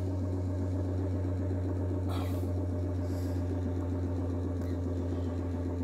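A small neodymium-magnet generator spins steadily at rising speed, giving a loud, continuous low hum like an idling engine with a few brief higher mechanical whirs over it.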